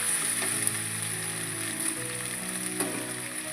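Potatoes fry in a pan with a steady sizzle, stirred now and then with faint scraping clicks, under a constant high background hum.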